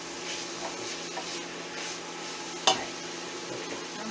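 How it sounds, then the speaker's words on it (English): Peppers get stirred in a pot of homemade chili, a soft scraping and shuffling over gentle sizzling, with a single sharp clink of the spoon partway through, quiet and close. "get everything stirred up"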